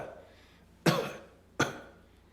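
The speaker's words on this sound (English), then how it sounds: "And it's this nervous cough." Two short, sharp coughs, close and fairly quiet, spaced less than a second apart with near silence between.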